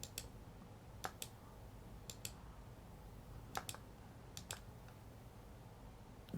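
Soft, close mouse clicks come in pairs, each a quick double click, repeated several times at irregular intervals against a faint steady room hum.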